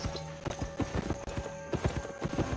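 Fast hoofbeats of a transport ox running in the Albion Online video game: a quick, steady clip-clop rhythm of hooves, close and clear, over faint sustained tonal game sounds.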